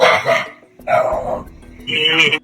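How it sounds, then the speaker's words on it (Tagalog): Dog barking in three loud, close bursts separated by short pauses. "Translate na natin tong kahol ng aso mga kababayan."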